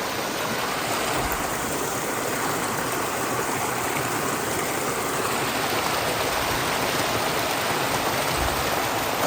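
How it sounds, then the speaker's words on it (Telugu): A waterfall in forested tribal country pours with a steady, dense rushing roar, unbroken and fairly close, with no voices over it. "ఇక్కడ వాటర్ ఫాల్ ఉంది"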